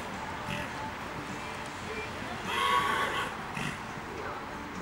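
A horse whinnies once at a show jumping event, rising in the middle of steady crowd and arena murmur, with a voice speaking over it.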